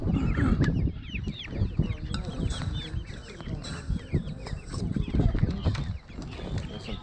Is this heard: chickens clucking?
yes